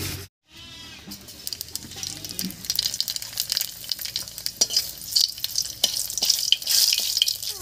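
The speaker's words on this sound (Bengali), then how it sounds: "তেলের মধ্যে দেবো 1/2 চামচ কালো জিরা আর 2টো শুকনো লঙ্কা।" Half a teaspoon of nigella seeds and two dried red chillies frying in hot mustard oil in a kadai: after a brief gap, a close, steady crackling sizzle that grows louder and busier with sharp spits.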